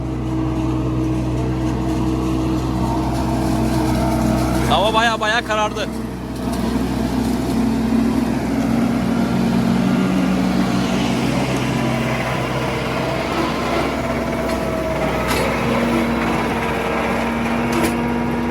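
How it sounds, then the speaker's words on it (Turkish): A steady mechanical drone of a tractor pulling a forage harvester cutting corn silage runs throughout, with someone speaking briefly over the engine noise. "Samet geliyor makinenin uğultusu geliyor traktörle birlikte."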